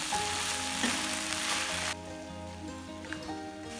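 Potato chilli manchurian fries loudly in a pan and is stirred, a bright, steady sizzle that drops suddenly to a softer crackle partway through, with occasional scraping of the mix.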